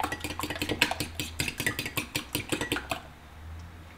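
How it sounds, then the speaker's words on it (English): A utensil mixing meat marinade in a bowl, a rapid run of rhythmic clinks and taps against the bowl for about three seconds, then stopping. "Just want to mix that thoroughly"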